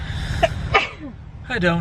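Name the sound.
sneeze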